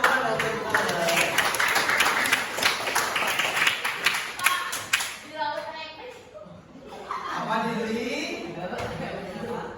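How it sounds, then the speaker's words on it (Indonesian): A class of students claps hands in a lively burst of clapping during a lesson, which then breaks off into children's chatter and voices before more scattered claps and talk return. "Tepuk tangan dong."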